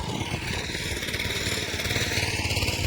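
A tractor engine running steadily nearby on a farm, a loud continuous rhythmic diesel chugging with no pauses.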